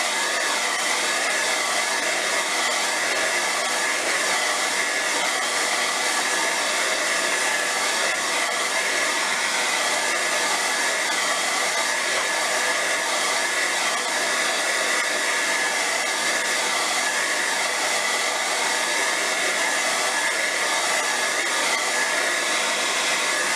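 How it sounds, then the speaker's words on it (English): A steady, loud rush of blowing air continues without pause, a constant hiss of a hot-air tool running close by. "quickly dry it with a hairdryer or heat gun"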